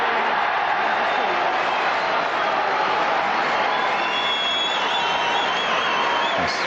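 Sustained loud roar and applause from a snooker crowd cheering Stephen Hendry, a dense wash of clapping and voices that holds steady throughout.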